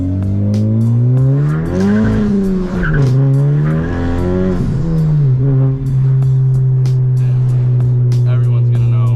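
A Honda Civic Type R FK8 with a catless Tomei Type D exhaust revs loud and close, the engine note climbing and falling in sustained sweeps over a deep steady drone, with faint turbo whistle and people talking nearby.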